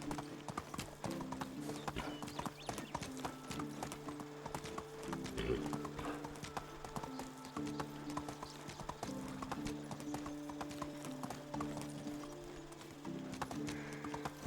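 Horse galloping in the video game Medieval Dynasty, a steady rapid clip-clop of hooves running continuously throughout at moderate volume with a brief whinny-like sound near the middle.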